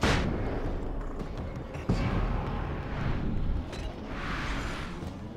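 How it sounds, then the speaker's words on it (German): A flashbang grenade goes off in Alan Wake's American Nightmare, heard as a sharp, thumping blast partway through amid ongoing booming gunfire and rumbling combat noise. The whole scene sits at moderate volume and the blast is not especially prominent. "Da können wir eigentlich mal eine Blendgranate drauf werfen."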